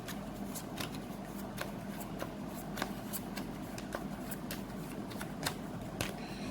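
Tarot cards being shuffled and drawn, a steady run of crisp riffling snaps and flicks close by over a soft hiss, with no talking.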